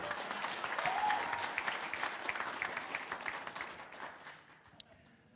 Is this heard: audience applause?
yes